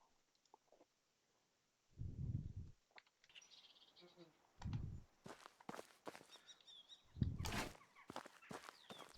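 Small birds chirp faintly in the background of the medieval survival game Medieval Dynasty during spring, scattered high calls mixed with heavier footstep thuds and a few louder bursts.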